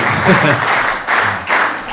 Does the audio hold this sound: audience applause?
yes